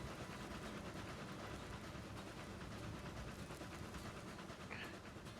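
A passenger train in the railroad game Railroads Online rolls along the track with a steady dense rumble and faint rhythmic clatter, continuous and even throughout, with no talk over it.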